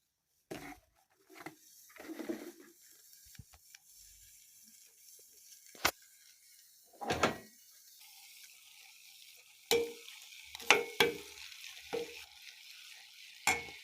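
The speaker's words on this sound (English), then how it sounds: "I want us to first cook our meat" Meat cooking in a pan for Kenyan kebabs: intermittent stirring scrapes and clatters over a soft background sizzle, with sharp utensil knocks at irregular intervals and no talking.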